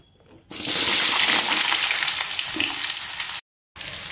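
Pumpkin and potato pieces drop into hot oil tempered with spices and bay leaf, setting off a sudden loud, dense sizzle that holds steady and close before a short cut and resumption.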